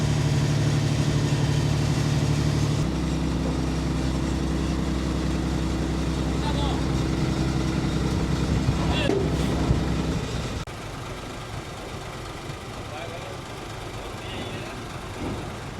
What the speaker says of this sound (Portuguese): E tá entrando um caminhão carregado de boi